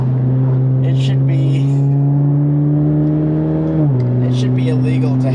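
Alfa Romeo car cruising along a road through the Black Forest, steady close engine hum holding pitch then dropping with a gear change near the end, faint voice-like sounds above it.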